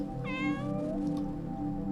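A cat meows in the Outside the Door game, a clear rising-then-falling mew heard close over a steady humming ambient background, with no voices.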